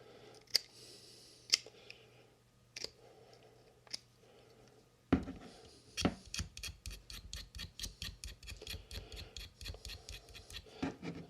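Enamel insulation being scraped off magnet wire for an end-fed half-wave antenna unun: scattered scratches at first, then a steady run of rapid, rhythmic rasping strokes, close and fairly quiet, with no talking.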